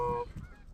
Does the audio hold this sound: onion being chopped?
no